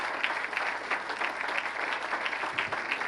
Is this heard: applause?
yes